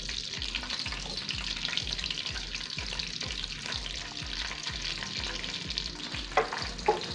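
Whole spices crackle and sizzle steadily in hot oil in a pan while being stirred, a rhythmic scraping of the spoon repeating close by, with a couple of sharper pops near the end; no voices.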